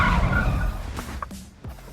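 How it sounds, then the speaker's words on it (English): A Porsche sports car's tires skid under hard braking, a loud broadband rush at the start that fades over about a second into quieter road and engine noise. "When you jam on your brakes in your nice sports car"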